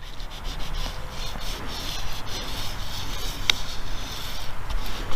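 A car logo decal is rubbed down onto a car's surface, giving a continuous close scratchy rubbing and swishing with a faint tap midway, heard alone without speech.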